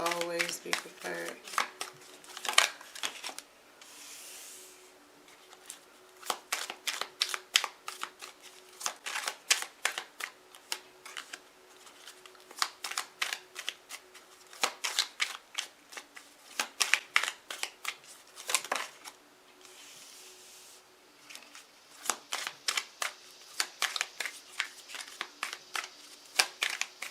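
Tarot cards shuffled by hand in rapid riffling bursts, crisp and close, repeating in clusters with short pauses between them, while a person talks quietly.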